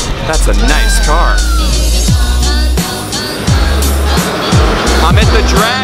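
Race cars at drag races in St. Paul, Nebraska, loud engines roaring and passing with rising and falling pitch sweeps, repeated several times up close amid crowd noise.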